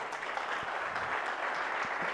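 An audience claps together in a short, dense burst of applause, steady throughout with no speech over it.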